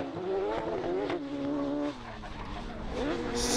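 Rallycross race cars in an RX150 event at the BRX 2019 round 3 circuit, engines blaring and shifting pitch as they accelerate past together, loud and sustained with a brief dip midway.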